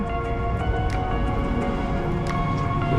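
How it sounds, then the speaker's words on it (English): Steady rain falls with a constant, dense hiss and patter, with occasional sharper drops close by and no voices. "Okay, so we're out in the rain now. It just started raining."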